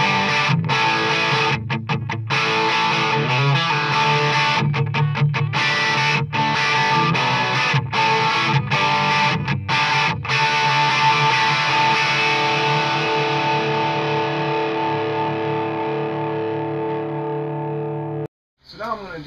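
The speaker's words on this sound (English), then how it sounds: "So anyway, some distortion sounds." Distorted electric guitar played through a CEC amplifier, chugging rhythmic chords with choppy stops and starts, then a long sustained chord ringing out and fading, loud and close with no voice over it.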